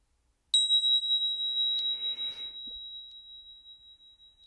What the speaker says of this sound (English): When you hear a bell, that means an angel just got their wings.